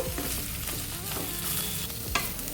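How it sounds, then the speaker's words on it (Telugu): Bitter gourd pieces fry in oil in a kadai, a loud continuous crackling sizzle with a few soft stirring knocks and one sharper clink, no voices. "ఒక త్రీ ఫోర్ మినిట్స్ ఆయిల్లో ఫ్రై చేసుకుందామండి"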